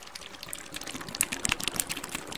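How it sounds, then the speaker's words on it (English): Dry ice bubbling vigorously in a container of liquid, a dense crackle of small pops and fizzing bursts held close, steady and fairly faint, with no voices. "You can hear the bubbles really going wild in there still."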